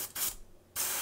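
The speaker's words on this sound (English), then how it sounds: "Perfect spray through." Short, faint hissing bursts from a sprayer being cleaned: a couple of quick puffs, a brief pause, then a longer steady spray, with no talking.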